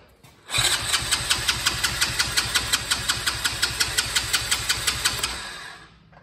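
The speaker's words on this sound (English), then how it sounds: "that's all it's doing, is just spinning over and not starting" Electric starter cranks a 2022 RFZ Sportrax 125cc ATV engine over without it firing, a steady rhythmic chugging of about twenty even beats lasting several seconds, then it stops.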